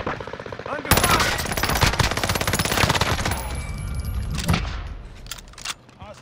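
In a video game, a machine gun fires long, rapid bursts that sound loud and close, with a few separate gunshots trailing after and voices chattering over the fire.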